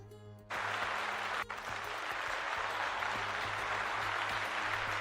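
Applause starts abruptly and continues as a steady, dense wash of clapping from a group, loud and sustained without voices.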